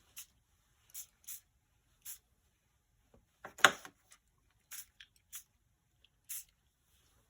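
Craft spray from a can misted over paper during journaling work, short soft hisses spaced out across the stretch with one louder, fuller burst in the middle, otherwise near silence.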